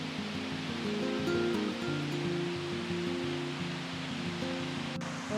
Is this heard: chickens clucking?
no